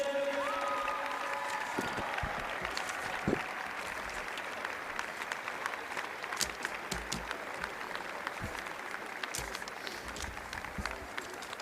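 A crowd at the NPLW Victoria women's football grand final applauds the runners-up, FC Bulleen Lions, with steady, sustained clapping that runs throughout, scattered sharper claps standing out above the dense patter.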